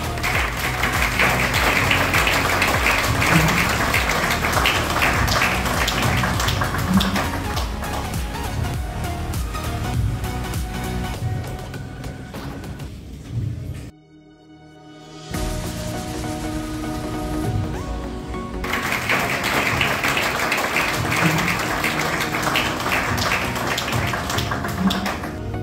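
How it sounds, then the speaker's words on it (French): Sustained audience applause at a ceremony honouring a nominee in DR Congo, steady clapping mixed with music, briefly dropping away to near quiet about midway before the clapping resumes just as full. "sous nos applaudissements"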